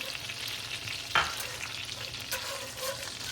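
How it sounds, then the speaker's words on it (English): Roasted garlic and butter sizzling in a pan for chicken Alfredo, a steady crackling hiss with one sharp scrape or clatter partway through, no voices. "All right, we are sizzling away"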